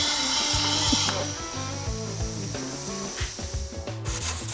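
Someone hand-sands the body of a cheap Honda S2000 before painting, working into small gaps with a steady, rasping rub, close up over background music.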